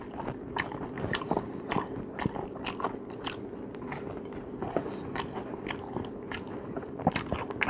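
Close-miked crunchy bites and chewing of garlic toast dipped in sauce, eaten alongside roast beef and king crab legs; a steady run of crisp crunches and mouth sounds with no talking.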